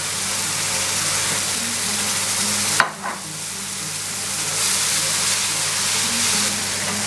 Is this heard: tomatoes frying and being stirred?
yes